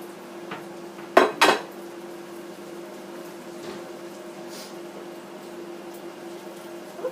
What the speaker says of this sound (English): I'm going to begin plating the spinach pasta